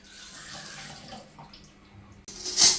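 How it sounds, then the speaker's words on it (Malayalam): Running tap water splashes steadily as tamarind is rinsed under it, with a louder gush of water near the end. "കുറച്ച് പുളി നമുക്ക് കഴുകി വെള്ളത്തിൽ ഇടണം"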